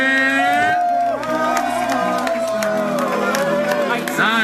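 A crowd cheering and clapping for a performer at a music show: shouts and whoops over a busy layer of claps and hubbub, with voices rising and falling close by.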